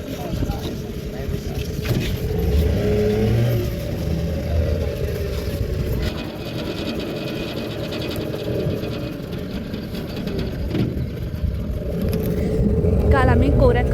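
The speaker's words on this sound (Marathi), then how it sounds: "आता आमची बोट सुरू होईल असं वाटतंय" A boat motor runs steadily on a river trip at Hampi, a loud continuous engine drone with water noise, while people talk over it.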